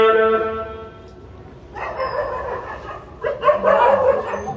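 Dogs in Ramganj barking during a Ram Katha religious gathering, several loud yelping barks in quick bursts, fairly close, with background noise from the event.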